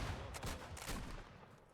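A musket volley from a platoon in a video game rings out as a quick cluster of overlapping gunshots, fairly faint and distant, with no talk.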